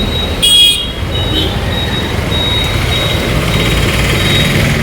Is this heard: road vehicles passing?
yes